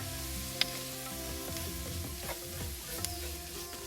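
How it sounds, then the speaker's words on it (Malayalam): All-purpose flour being stirred into a sizzling pan, a soft steady fry hiss with a few sharp clicks from the spoon against the pan; no one speaks. "ഇനിയും ഇതിലേക്ക് 1/4 കപ്പ് ഓൾ പർപ്പസ് ഫ്ലവർ ഇട്ട് ഇളക്കി എടുക്കണം."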